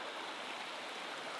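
Steady, faint wash of flowing water from a creek in the Australian bush, continuous broadband rushing with no breaks and no voices.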